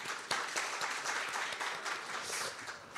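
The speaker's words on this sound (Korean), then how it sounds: "우리 모두를 위해 박수 한번 치겠습니다" Attendees at a financial crime prevention seminar applaud together, a soft, continuous, many-handed clapping heard from a moderate distance for about three seconds.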